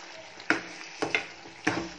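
Chicken curry gravy with half a lemon added is stirred in a pot, giving three soft scraping, sloshing strokes spaced about half a second apart, close and quiet, with a faint sizzle underneath and no talking.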